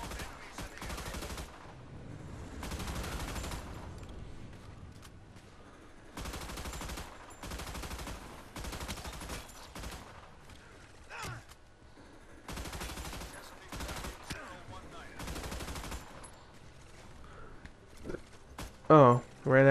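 Repeated bursts of ship-gun fire from the Battleship video game come in loud clusters separated by short gaps, with voice running alongside the shooting.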